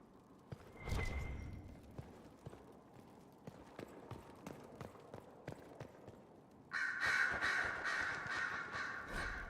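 Crows caw in a Dragon Age Inquisition game scene: a loud caw near the start, then scattered clopping taps, and from about two-thirds through a louder burst of overlapping harsh bird calls.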